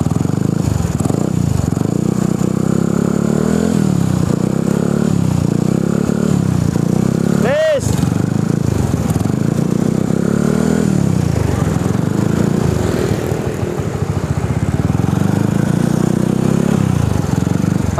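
A modified Vespa automatic scooter engine idles nearby with a lumpy, slightly ticking rhythm and a brief rev in the middle, while people talk over it.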